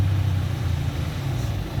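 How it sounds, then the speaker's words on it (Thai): A tractor engine runs steadily close by, a continuous low mechanical drone holding an even level throughout with no talk over it. "เท่าแก่ใหญ่ครับ ขับรถไถเองเลย"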